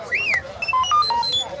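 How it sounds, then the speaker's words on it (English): R2-D2 beeps from a Star Wars read-along story record: a quick run of chirpy electronic whistles, rising and falling sweeps and short tonal bleeps, close and clear over faint background hiss. "You will know it is time to turn the page when you hear R2-D2 beep like this."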